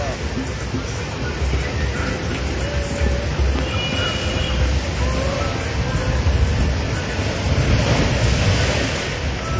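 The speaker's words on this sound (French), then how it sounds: "on vient écouter les vagues, c'est tout ce que le beau voulait, venir écouter les vagues" Ocean waves washing onto a beach in Cameroon in the evening make a steady, broad roar with some wind throughout, and voices are faintly present nearby.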